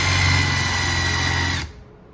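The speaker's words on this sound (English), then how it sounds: "We're going to put a little drill dent." A power drill runs steadily for about a second and a half to make a starter dent in metal during a mini bike build, a sustained whirring tone that cuts off abruptly.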